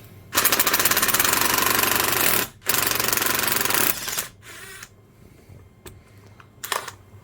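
A powered screwdriver backs a tight screw out of a Makita 6013BR heavy-duty 1/2-inch drill housing with loud, close, rapid ratcheting bursts that stop and restart, then a few sharp clicks.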